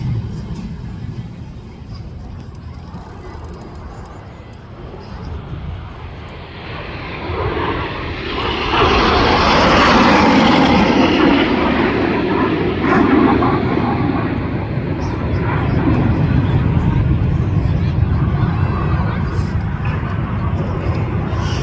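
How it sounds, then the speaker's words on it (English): Red Arrows jets flying an air show display: a broad jet roar builds from a distant rumble to a loud, sustained pass overhead, then stays heavy and steady. "If you keep watching the 3 aircraft out to the front of the display, they're setting up for the most challenging manoeuvre for Red 3"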